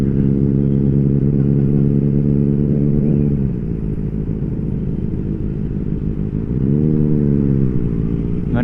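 An old 1000cc Harley-Davidson motorcycle passes close by on a road, its loud, deep engine throb holding steady, dipping, then swelling again as it goes by, with no talking.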